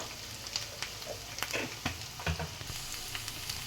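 Onion paste frying in a pan, giving a continuous hissing sizzle with scattered soft clicks and a few louder scrapes near the middle, close and fairly quiet.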